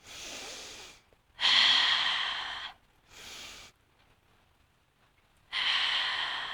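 Strong, breathy exhales during a beginner Pilates abdominal exercise, four bursts of varying length separated by short pauses, close and loud with no talking.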